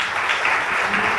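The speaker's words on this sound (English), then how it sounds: "Give them a big clap." Audience at a motivation workshop for MBA and BBA students clapping together, a dense, even burst of applause, fairly loud and brief.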